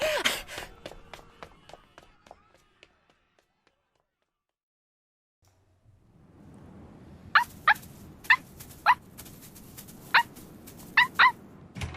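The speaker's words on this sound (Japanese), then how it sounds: "その犬を静かにさせてください" A dog in an audio drama scene lets out a run of sharp, fairly loud barks over a low background rumble after a quiet stretch, with some faint clattering sounds earlier on.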